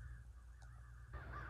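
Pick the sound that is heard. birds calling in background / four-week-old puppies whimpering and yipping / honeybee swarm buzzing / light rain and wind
birds calling in background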